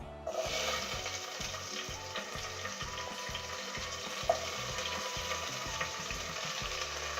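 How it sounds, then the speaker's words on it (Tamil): Mustard seeds and fenugreek sizzle and crackle steadily in hot oil for a Tamil sambar rice dish, a continuous close frying hiss with faint popping and no talking. "நான் கடுகும் வெந்தயமும் இதில் ஆட் பண்ணிக்க போகிறேன்"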